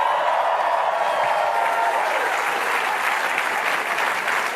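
Another round of steady, full-room applause from a NASA Goddard audience, dense and even from start to finish, with light crowd noise mixed in.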